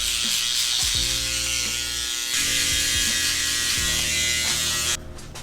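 Electric hair clippers buzz steadily while cutting a bald fade in a barbershop, close and loud, with rhythmic strokes through the hair before the motor cuts off near the end.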